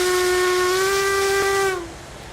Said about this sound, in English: the whistle is pretty pleasant too